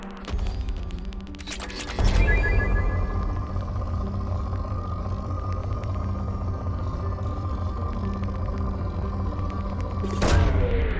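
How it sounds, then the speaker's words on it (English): A probe launches in the video game Mass Effect 2, a loud booming whoosh with a sharp onset, then a sustained rumbling hum that ends in a second burst near the end, with no voices. "Launching probe."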